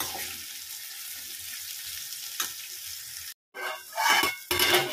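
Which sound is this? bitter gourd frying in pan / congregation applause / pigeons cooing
bitter gourd frying in pan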